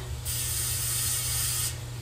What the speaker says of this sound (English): So I'm gonna spray my cake pan.